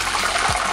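Smashed fried plantains dropped into salted lime-infused water give a short watery splash and slosh, loud and close in a kitchen.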